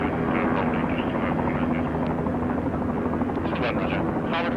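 Helicopters landing at an air display, a droning rotor and engine hum holding steady throughout, with radio-style voices talking over it.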